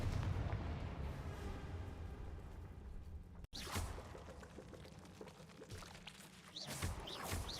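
Fire blast spells in the Hogwarts Legacy video game go off in loud whooshing bursts, a dense roaring barrage broken by a brief gap, then more blasts and rising swishes.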